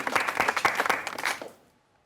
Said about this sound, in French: Tout le monde applaudit Kate